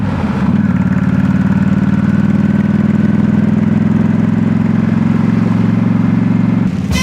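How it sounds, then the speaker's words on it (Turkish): A motorcycle with its original stock exhaust idles steadily with a deep, even low rumble that carries on without a break, then cuts off near the end. "Orijinal stock egzoz."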